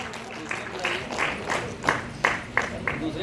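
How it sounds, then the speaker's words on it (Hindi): An audience at a pottery and clay-art award ceremony breaks into applause, a scattered run of claps that builds with a few sharper hits, with voices murmuring underneath. "एक बार जोरदार ताली होनी चाहिए"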